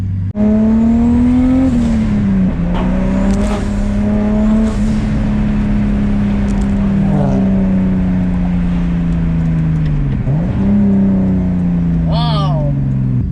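Turbocharged BMW E30 with an M50 engine making about 500 whp, revving hard through several gears with rising engine tones and brief dips at shifts, loud and close from inside the car, with a turbo whoosh near the end.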